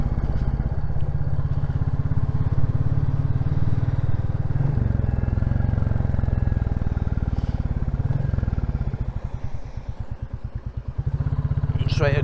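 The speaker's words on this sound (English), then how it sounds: "Really hope the mic's picking up the overrun on the exhaust." Royal Enfield Classic 350 motorcycle ridden along a road, its single-cylinder exhaust giving a steady low thumping drone that eases into a burbling overrun pulse near the end, close and continuous.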